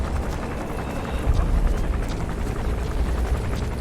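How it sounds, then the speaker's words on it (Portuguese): Helicopter in the video game Metal Gear Solid V: The Phantom Pain, a steady low rotor drone that holds throughout and swells slightly partway, with faint scattered clicks above it. "Helicóptero ali."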